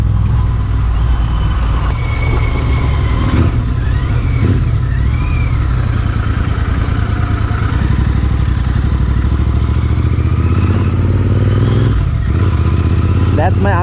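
A motorcycle engine runs in a steady, continuous low drone for the whole stretch, holding close and fairly loud with a rough mechanical rumble and no clear revving peaks.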